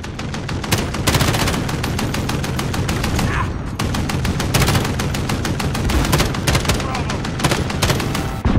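Sustained automatic gunfire in a Call of Duty: Modern Warfare battle, rapid loud bursts of rifle and machine-gun shots rattling almost without pause, with brief gaps and faint voices under the barrage.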